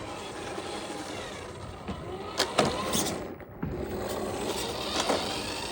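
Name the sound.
motor of a Maisto R/C Volkswagen Bus running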